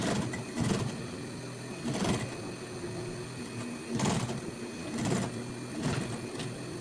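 Sewing machine stitching a fabric backpack and backstitching at the end, heard as several short whirring bursts of rapid needle rattle separated by pauses, close and moderately loud.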